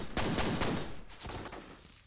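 Rapid bursts of gunfire from the first-person shooter game F.E.A.R., several loud shots in quick succession followed by more scattered firing, with no talking.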